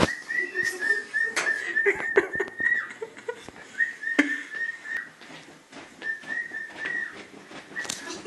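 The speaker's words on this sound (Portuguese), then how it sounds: "Até o papagaio tá ficando maluco." A parrot whistles a series of bright, chirpy whistles, repeated in short bursts with brief pauses, fairly close and loud, over faint room noise.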